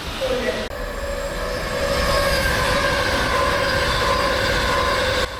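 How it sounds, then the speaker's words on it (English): A train roars steadily past at speed through a station without stopping, with a sustained rushing rumble and high metallic whine, loud and close throughout. "The Pride train sped through the station as I waited for my train"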